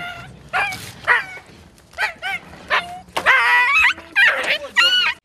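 A puppy whimpers and yips repeatedly in high, plaintive cries, close and fairly loud, with a low murmur of background noise.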